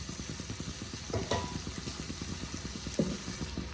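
Doi katla fish curry masala sautéing in a pan, a quiet continuous sizzle with rhythmic stirring strokes and a couple of brief scrapes, no talking.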